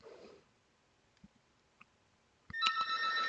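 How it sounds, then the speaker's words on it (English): A telephone rings indoors, its electronic tone breaking in loud and sustained in the last second after near-quiet with a few faint soft taps. "I got a phone ringing there."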